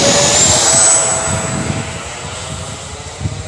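An E-flite Viper 90mm electric ducted-fan RC jet taking off, its high whine loud and close at first, then fading as it pulls away, with a steady whistling tone riding over the rushing air.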